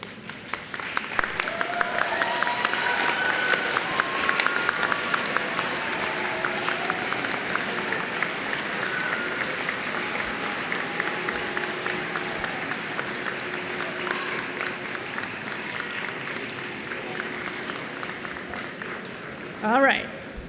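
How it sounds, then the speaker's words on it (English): Graduates at a spring graduation ceremony stand and applaud their families and friends, a long, steady wash of hall clapping lasting about twenty seconds with voices murmuring beneath and a brief louder burst at the close. "please stand, turn, and face the audience and applaud your family and friends."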